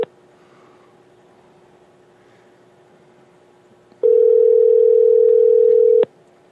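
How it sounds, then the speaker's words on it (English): A steady electronic telephone tone sounds for about two seconds after a quiet stretch of faint line hiss, then cuts off abruptly. "Oh, it's ringing."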